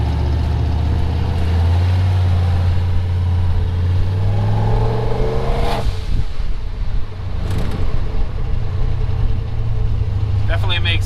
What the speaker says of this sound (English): Definitely makes cool boost noises though